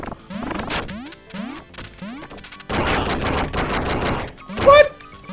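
Rapid bursts of AK rifle fire in the cartoonish platformer Duck Game, clipped electronic volleys in a dense stretch between other chirpy game effects, close and fairly loud.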